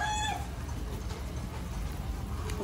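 A chicken clucks and crows close by at the start, its short call fading into a loud, steady background rumble outdoors.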